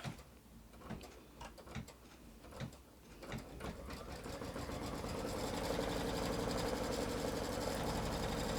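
An embroidery sewing machine stitches fabric in the hoop, starting with a few separate thumps before settling into a continuous, even mechanical whir that stays close and steady.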